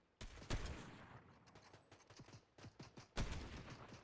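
Sharp gunshots crack out in a quick irregular volley in Fortnite, with two louder blasts standing out among smaller pops.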